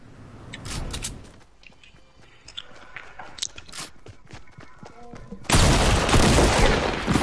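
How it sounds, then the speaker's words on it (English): Shotgun fire in a first-person shooter game, with scattered crackling shots and impacts, then a loud sustained burst of heavy gunfire near the end. "I did shoot through the window."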